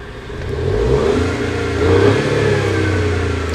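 A three-cylinder BMW engine, shaking badly and running rich, revs up as the throttle is pressed and then released, giving a close, steady rumble that swells and eases.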